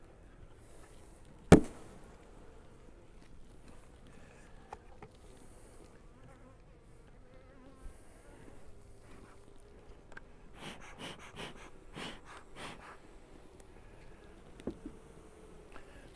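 Honey bees hum faintly and steadily at a weak hive in winter, with a sharp knock early on and a few soft taps and rustles later.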